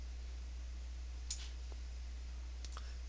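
A computer mouse clicks while items are selected in Oracle database software, two crisp separate clicks over a steady low hum, faint and with no speech.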